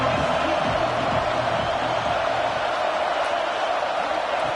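A football stadium crowd roars steadily as Notre Dame's defense faces Ohio State in the red zone, forming a dense, unbroken wall of noise with no clear breaks.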